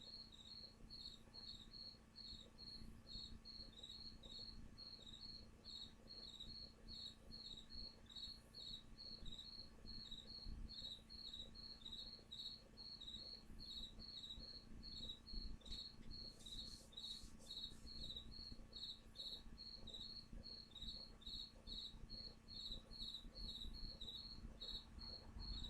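A cricket chirps indoors in steady, rapid pulses that repeat without pause over a faint low hum, close and clear throughout.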